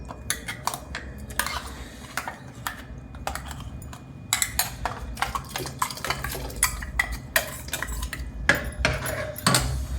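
A spoon scrapes and clinks around a pot while masala is stirred into boiled bisibelebath, giving a run of sharp metallic taps and scrapes at close range over a low, steady background, with no talking.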